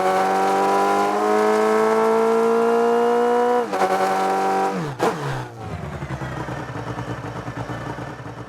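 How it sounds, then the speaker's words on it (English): A dirt buggy engine in the game Rocket League Sideswipe drones steadily at high revs, then drops sharply with a stuttering, sputtering rev before settling into a rough, lower idle. "the only engine audio that has this little stutter in it"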